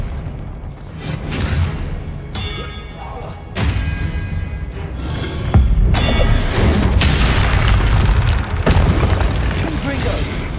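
Spellcasting in the video game Hogwarts Legacy brings repeated heavy booms and whooshing impacts, loud and close, in dense overlapping bursts with continuous game noise underneath.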